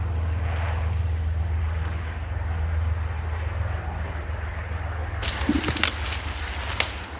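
Old biplane droning overhead above farm fields where workers toil, a steady low engine hum throughout with some brief rustling and clatter toward the end.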